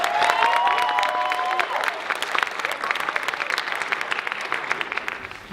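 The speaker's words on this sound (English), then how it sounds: "Let's give them a round of applause." A crowd applauds student athletes at an event, loud dense clapping with a few whoops and whistles early on, gradually thinning into scattered claps.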